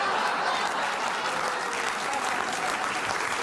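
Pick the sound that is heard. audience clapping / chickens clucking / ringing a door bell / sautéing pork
audience clapping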